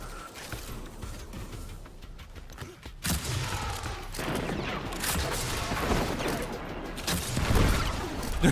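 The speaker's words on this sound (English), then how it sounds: "I love this fucking grenade launcher." A grenade launcher fires in the video game Destiny 2 during a busy combat scene, with bursts of explosions and impacts layered over a constant background of game noise.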